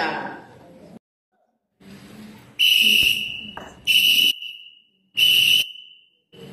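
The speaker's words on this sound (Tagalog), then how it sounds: "Danger alarm, look out." A danger alarm signal at an outdoor training session sounds as three loud, shrill whistle-like blasts separated by short gaps, with brief voices and breathing before the first blast.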